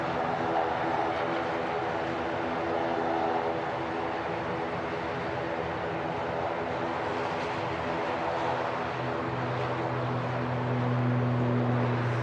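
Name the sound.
Aer Lingus ATR turboprop engines spooling up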